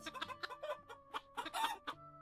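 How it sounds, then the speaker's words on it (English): Chickens (called Dawn Feathers) clucking near the microphone in a repeated series of short, chattering calls, with a steady low hum underneath. "why they call these things Dawn Feathers when they are obviously chickens"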